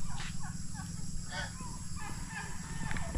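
Turkeys on a farm, just fed on corn, make a run of warbling gobbles and fowl calls, several overlapping bursts over steady low background noise, fairly close.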